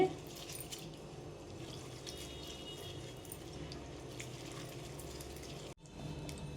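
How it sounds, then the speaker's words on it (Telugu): Soaked moong dal is being washed by hand in a bowl of water, producing a steady, close wet sloshing and rubbing that runs almost unbroken, with one brief gap near the end. "ఇలా నానిన పప్పుని పొట్టంతా పోయే వరకు వాష్ చేసుకోవాలండి"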